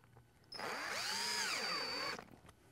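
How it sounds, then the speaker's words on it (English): A power drill drives small stainless steel screws through a skylight dome into its roof flashing, one steady whining run of about a second and a half, close and alone. "we're gonna attach the dome to the flashing with these four little stainless steel screws"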